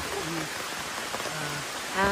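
Steady rain hiss fills the background at a cafe, with faint voices murmuring underneath at a distance.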